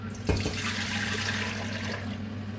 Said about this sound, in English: So we add water to it.